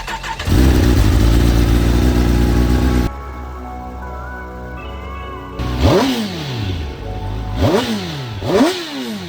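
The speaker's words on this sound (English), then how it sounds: "once I start the bike up and I rev up the bike just a little bit" A 2021 Kawasaki ZX10R, rebuilt but still faulty, runs with a loud steady engine drone, then drops to a quieter idle before several sharp rising revs close by.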